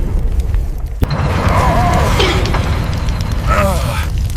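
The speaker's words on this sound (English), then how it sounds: "The dragon turns, eyes narrowing, and hurls another wave of fire toward the machine." A dragon hurls a wave of fire in an animated battle against an excavator, a deep whooshing roar sustained throughout with a sharp thump near the start and swirling tonal sweeps layered over it.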